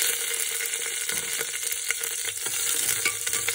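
Mustard seeds and green chillies sizzle and crackle steadily in hot oil for a Tamil surakkai kootu, a dense continuous frying hiss close to the pan with no talking.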